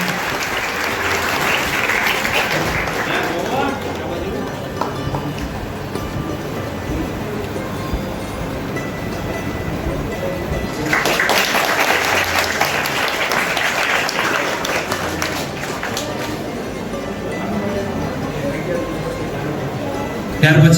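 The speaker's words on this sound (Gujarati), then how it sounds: "આપણે આ નાના નાના ભૂલકાઓને તાળીઓના ગડગડાટથી આવકારીશું" Sustained applause from an outdoor crowd welcoming young children at a school enrollment festival, clapping swelling in two loud waves and continuing steadily throughout.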